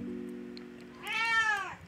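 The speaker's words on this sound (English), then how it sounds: "that's my cat saying hello." A pet cat meows once, close and clear, after a low steady hum, with a rising, drawn-out call near the end.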